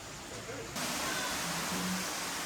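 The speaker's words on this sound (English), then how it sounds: "I hear lots of water. Oh, look. There's another waterfall." A waterfall at Rock City on Lookout Mountain gives a steady, broadband rush that swells suddenly partway through the short clip. It stays loud and constant, with faint voices in the background.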